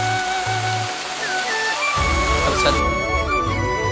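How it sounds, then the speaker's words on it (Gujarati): Heavy rain pours steadily over an open village field, a dense continuous hiss that holds at an even level throughout. "આ જો વરસાદ આવે તો વરસાદ ફાસ્ટ થઈ ગયો"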